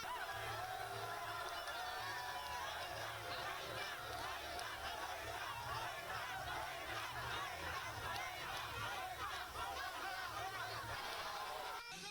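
A large crowd gathers to welcome Mali's transition president Assimi Goïta at an official ceremony. The dense, steady hubbub of many voices with cheering runs unbroken and loud throughout.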